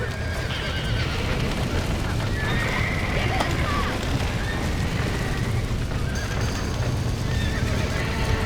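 Horses in the Red Dead Redemption video game neigh and whinny amid rapid galloping hoofbeats, over a dense, loud game soundscape with low rumbles and occasional booms.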